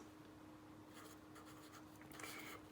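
Handwriting during an algebra lesson on prime factorization, likely marker or pen on a board, heard as soft, continuous scratchy strokes with a few brisker bursts, faint and close against a low steady hum with no talking.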